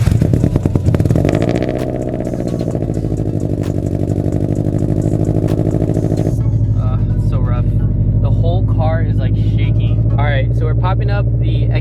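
A supercharged Toyota FRS with a suspected misfire starts and runs rough, a loud, close engine with an uneven pulsing idle that continues throughout, with someone talking over it in the second half.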